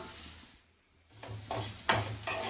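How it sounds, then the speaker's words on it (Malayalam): Fenugreek, cumin, mustard seeds, garlic, ginger and green chilli sizzling in a pan for sambar: a brief quiet gap, then soft frying hiss with a couple of sharp stirring scrapes against the pan, close and fairly faint. "ഇതിലേക്ക് ഉലുവ, ജീരകം, കടുക് ഇട്ട് കഴിയുമ്പോൾ അതിലേക്ക് വെളുത്തുള്ളി, ഇഞ്ചി, പച്ചമുളക് വാട്ടിയെടുക്കാം."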